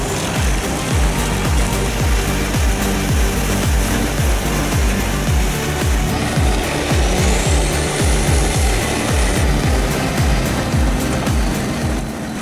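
An industrial wood crusher and chipper, a heavy machine built for round-the-clock duty, runs loud and continuous, with a dense, steady grinding roar and rapid repeated impacts from material being broken up.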